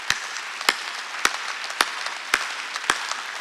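Rhythmic hand clapping by a church congregation during a Sunday worship service, sharp, evenly spaced claps about every half second over a soft background hum, with no talk.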